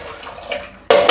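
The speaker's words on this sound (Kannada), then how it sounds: "ಈ ಥರ ನೀರನ್ನು ತೆಗೆದುಕೊಂಡು" Water is poured while a home cook makes rice and saaru in a kitchen: a soft trickle at first, then a sudden loud, bright splash near the end.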